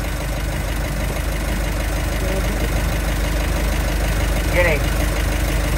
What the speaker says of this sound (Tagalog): Yan na po ang ingay ng compressor